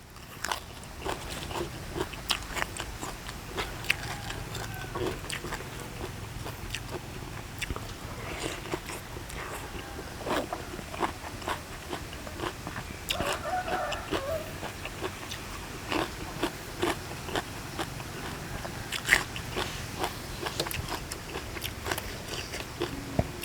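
Close crunchy chewing of a spicy Thai green mango salad, steady repeated bites and mastication running throughout at moderate, intimate volume.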